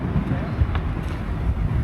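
Outdoor wind in Warsaw buffets the microphone with a constant low, rumbling roar throughout, close and fairly loud.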